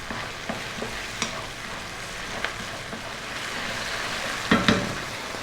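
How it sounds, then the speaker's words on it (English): A tomato paste and brown sugar sauce is stirred in a pan, a low simmering sizzle with intermittent spoon scrapes and taps, louder clacks near the end, no voices. "we're going to go for another 3 minutes, stirring pretty much all of the time"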